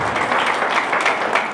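A church congregation claps together in praise of God, a brief dense wash of applause filling the room.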